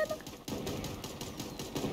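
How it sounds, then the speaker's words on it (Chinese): Gunfire in the cartoon battle-royale video game Super Animal Royale, a burst of rapid repeated shots with a sharp onset near the start and then continuing in quick pulses, fairly loud. "左边有枪声"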